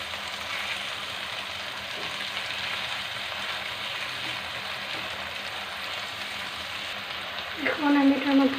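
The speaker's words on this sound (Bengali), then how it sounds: "এখন আমি পানি দিয়ে দিচ্ছি সামান্য পরিমাণে।" Water hits a pan of fried loita shutki and sizzles, a steady, fairly loud broadband hiss lasting throughout, with a brief louder flare and a short voice near the end.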